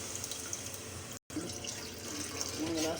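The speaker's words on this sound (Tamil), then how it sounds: "நெக்ஸ்ட்டு புளி தண்ணி ஊற்றிக்கலாம்." Tamarind water poured into a pan of masala gravy for an oil brinjal curry, giving a steady, faint liquid stream with a brief break partway through.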